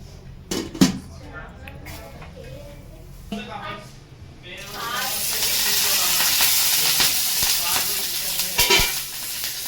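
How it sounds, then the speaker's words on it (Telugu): Green chillies sizzle in hot oil, a steady frying hiss that swells after a few seconds, with occasional clinks of a stirring spoon and a voice talking over it. "మిర్చిలు మనము ఆయిల్లో ఫ్రై చేసుకుంటున్నాము"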